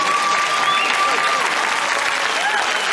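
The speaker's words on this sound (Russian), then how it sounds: "Аплодисменты." A television comedy show audience applauds, dense loud clapping sustained across the whole span, with a faint tone sliding through in the background.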